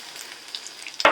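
Grated coconut and spices with asafoetida being sautéed in a pan for masala sundal, a faint steady sizzle with light stirring that flares into a brief louder burst of frying at the very end.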